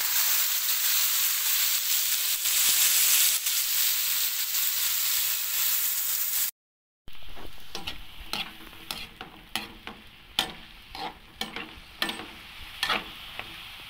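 Ground pork or beef sizzling and frying in a pan for ginisang upo, a steady loud hiss that breaks off briefly, then returns softer with sharp spatula scrapes and stirring clatter.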